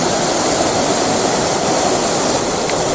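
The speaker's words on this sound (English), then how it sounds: "It's quite a large, impressive waterfall" Crookburn Falls, a large waterfall in Northumberland, rushes in a loud, steady, broadband roar with no breaks, heard close to the river.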